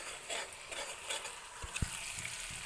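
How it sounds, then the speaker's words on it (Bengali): Spices frying in a pan during preparation of a vegetarian cabbage kofta curry, a soft sizzle under light scraping stirs and a few sharp knocks near the end. "তো এটা দিয়ে আমি ভালো করে ফ্রাই করে নিচ্ছি"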